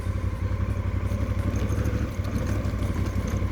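A motorcycle on Pirelli Scorpion Rally SRT tires rolls slowly, its engine a steady low rumbling drone with a faint clattery edge, close and continuous.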